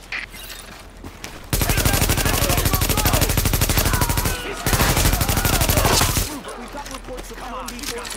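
Rapid automatic gunfire roars through a heavy firefight at Grand Central in The Division, loud dense bursts starting after a quieter opening, a short dip near the middle, then easing into background battle noise.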